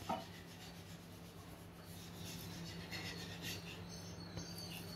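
A spoon rubs and scrapes softly through egg biryani rice in a pressure cooker, a steady, faint scraping texture with no speech over it.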